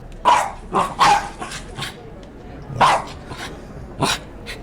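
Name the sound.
foley artist imitating a dog running, with collar jingling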